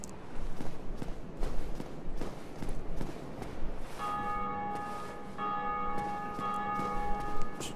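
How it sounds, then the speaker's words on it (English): Church bells ring out in the video game Dark Souls Remastered, a steady clangour of sustained tolling tones that sets in partway through over a busy background of footsteps and movement, fairly loud and with no one speaking. "Church bells."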